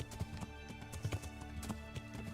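Horse hooves clip-clop at a steady trot in Kingdom Come: Deliverance, a quick rhythmic clatter of repeated hoofbeats, fairly close, with quiet game ambience behind.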